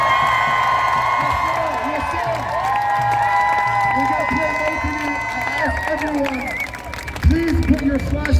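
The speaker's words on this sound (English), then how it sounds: "Let's give the kids a round of applause!" Outdoor crowd at a ceasefire rally in downtown Vancouver applauding and cheering for children, steady mixed clapping and shouts with voices and chanting tones underneath throughout.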